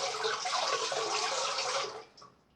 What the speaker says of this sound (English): when you turn the tap on and let the water run into that